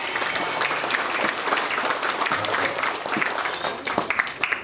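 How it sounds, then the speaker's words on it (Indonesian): Crowd applause for the organizing committee and mosque congregation at a Maulid Nabi gathering, a fairly soft, uneven patter of clapping with a few sharper claps standing out near the end. "Tepuk tangan untuk seluruh panitia dan jamaah masjid"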